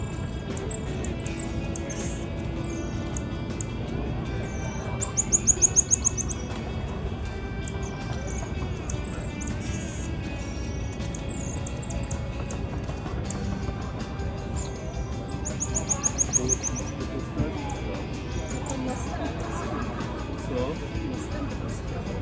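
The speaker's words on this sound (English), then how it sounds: "this little monkey was so cute and there were so many of them and they sounded like little birds" Small monkeys in Rio de Janeiro give high, rapid bird-like chirping calls in two short bursts, heard over a person talking and steady background noise.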